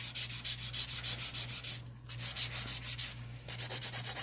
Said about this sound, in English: I'm going to take a 150 grit file and begin to shape these bad boys.